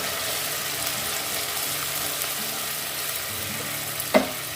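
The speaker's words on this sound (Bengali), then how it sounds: "বাটিটা ধুয়ে আরো খানিকটা জল দিয়ে দেব।" Water is poured into fried masala for a doi katla fish curry, and the pan sizzles steadily and softly throughout, with a brief clink near the end.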